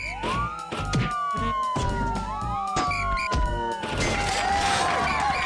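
A video game police siren wails in rising and falling sweeps over engine noise and scattered clunks, steady and loud throughout.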